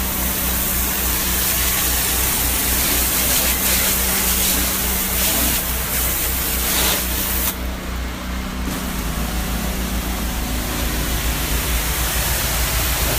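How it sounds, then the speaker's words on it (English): Pressure washer giving a light spray to clean mold and mildew: a constant loud hissing spray over a steady low engine drone, with brief shifts in intensity, continuing throughout without talk. "Watch this when I just do a light spray on it."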